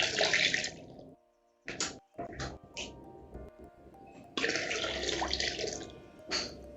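Hot water at about 50 to 60 °C pours from a bucket into a container. A steady splashing pour starts, breaks into short bursts, then runs as a sustained, fairly loud stream to the end.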